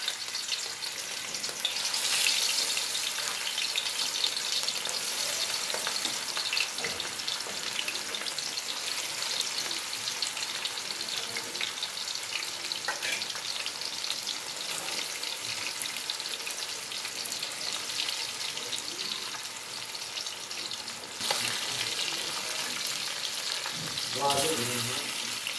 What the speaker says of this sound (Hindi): अब कढ़ाई रख ली है ऊपर, इसके अंदर डाल दिया है ऑयल। अब इसके अंदर फिश रख दूँगी, इसको कर लेंगे फ्राई।